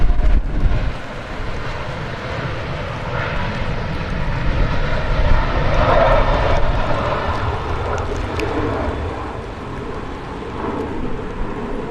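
A Ryanair airplane roars at Manchester Airport in wet, windy weather, a loud, steady broadband engine rumble that persists throughout with a slight swell in the middle, no voices over it.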